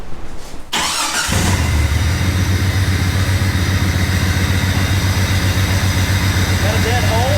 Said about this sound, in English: Hear it idle for a second.